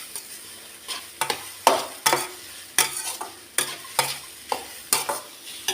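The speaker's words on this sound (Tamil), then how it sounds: "அப்பப்போ கிளறி விடுவோம்." A spoon stirs grated carrot halwa cooking in ghee in a pan, giving about a dozen rhythmic scraping strokes over a soft sizzle, close and fairly quiet.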